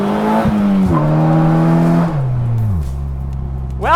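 Polaris Slingshot SLR engine loud and close, holding steady then stepping down in pitch through gear and throttle changes as it slides sideways in a controlled drift, with a brief rising whine at the very end.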